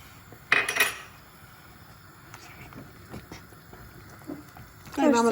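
A spoon clinks and scrapes against a pot while semolina cooked with clotted cream is stirred, with sharp metallic knocks at the start and end and quieter stirring between.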